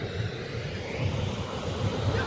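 A powerful waterfall near the Arctic Circle in May roars as a steady, dense broadband rush close by, continuous and unbroken throughout, with some wind buffeting the microphone.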